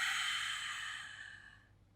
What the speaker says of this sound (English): In breath. Exhale, we roll up.